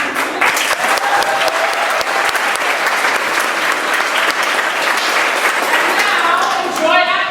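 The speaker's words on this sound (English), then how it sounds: "if you'll join me in a round of applause for our executive producers, the Samuelson and Saman." Full, vigorous applause from a theatre audience honouring the executive producers of a stage musical, steady and close for about seven seconds, with some voices and cheers mixed in toward the end.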